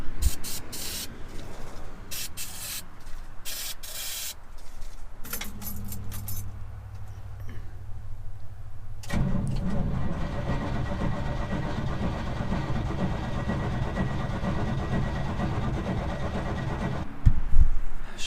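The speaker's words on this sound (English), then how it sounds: "I'm not even wasting my time starting this without some starting fluid." Keys jangle up close, then a cold 1988 Chevy R30 dump truck with a leaking carburetor needle and seat is started with starting fluid, its engine roaring loudly and steadily for the rest of the clip.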